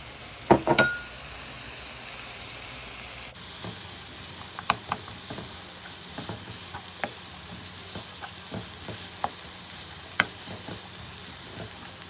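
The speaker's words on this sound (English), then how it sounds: "Okay, so now I'm going to throw in the onions." Onions sizzle and fry in a pan for vegan jackfruit Cuban pulled pork with mojo, a steady hiss broken by scattered crackles and a few stirring clicks, close and alone without speech.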